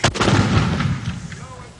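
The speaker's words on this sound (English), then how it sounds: "Then opening up with 81mm mortars, which were set up in a matter of minutes in the town square." An 81mm mortar fires from a town square during a guerrilla engagement: one sharp, heavy thump opens, followed by a booming report that rolls away into a fading echo.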